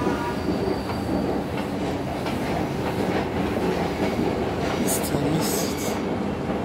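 A train rumbles steadily into a station, its rolling wagons and wheels giving a continuous loud roar with faint high squeals near the end; no voices over it.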